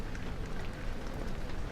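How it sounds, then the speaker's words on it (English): Steady rain in Amnesia: The Dark Descent forms a constant, even hiss with faint pattering throughout, soft and unbroken with no voices. "Listen to the rain."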